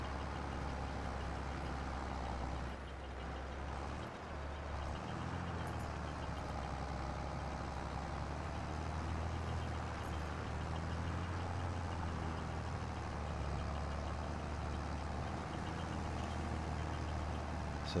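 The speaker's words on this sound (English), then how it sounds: "So the tractor is just desperately trying to get through this field" Simulated tractor engine droning steadily under load while towing an implement through a field in Farming Simulator 22, a continuous low rumble with no gaps and no talking.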